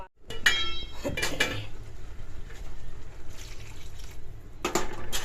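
Water is poured into a pan of sautéed bottle gourd leaves for a stinging catfish curry, with sharp metal clinks of a utensil against the pan around a soft liquid wash.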